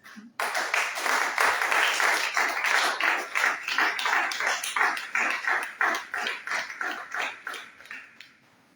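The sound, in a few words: congregation applauding and cheering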